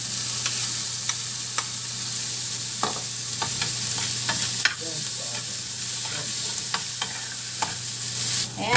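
Onion and tomato sautéing in a frying pan, with a steady close sizzle and repeated clicks and scrapes of stirring throughout, over a low constant hum.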